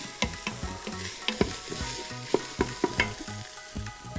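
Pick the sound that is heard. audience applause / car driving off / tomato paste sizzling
tomato paste sizzling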